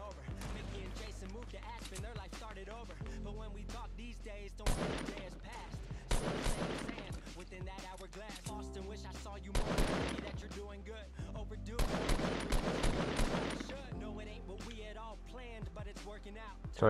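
A SCAR assault rifle in Fortnite fires in several short, punchy bursts spaced a few seconds apart, over game ambience and some talking.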